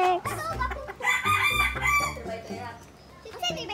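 A chicken crows loudly and close by in a rural backyard, with a long crowing call mixed with clucking from other fowl and a voice briefly in the background.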